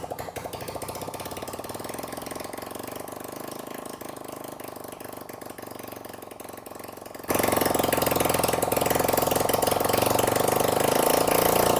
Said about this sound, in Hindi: अब बारी है हमारे पेट्रोल की और इंजन की।